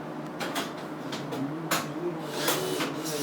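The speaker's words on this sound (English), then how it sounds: "now we're going back and riveting them in." Rivets going into step plates on a Sling TSi aircraft fuselage make short, sharp mechanical bursts and pops at an irregular pace. They sit over a steady workshop background, with no talking.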